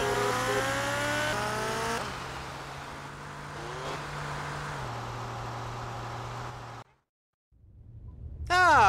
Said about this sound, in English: You're driving like you're crazy.